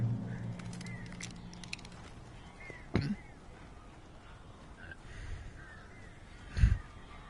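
Crows cawing inside the Remedy horror game, several faint harsh calls scattered across the scene with a few sharp thuds and knocks, distant and quiet with no speech.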